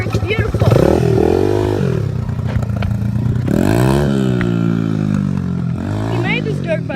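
A Honda XR100R dirt bike engine revs up and down in uneven surges close by, with clattering mechanical noise and people talking over it.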